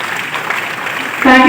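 Dense applause from an audience at an awards ceremony fills the short clip, steady and fairly loud, with a tonal swell rising near the end.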